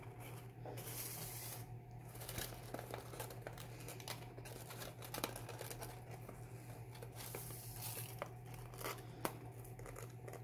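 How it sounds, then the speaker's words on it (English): Tape is slowly peeled off a handmade butterfly bomb fishing lure, making soft, close crinkling and tearing sounds in small bursts throughout, quiet and alone. "Now we can take the tape off."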